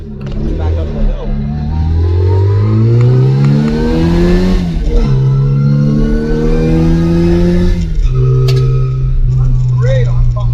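A Cooper Road Mini's small engine climbs a steep hill, running loud and close in the car, its pitch rising through the gears and then holding a strained drone, with someone speaking over it.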